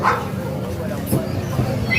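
Dogs at a Grotto pet market give short yips and whimpering barks, close and brief, mixed under people talking nearby.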